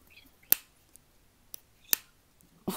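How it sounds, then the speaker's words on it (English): A few sharp, isolated hand claps in a quiet Times Square setting, spaced irregularly about a second apart, close and crisp with no voices. "What are you clapping?"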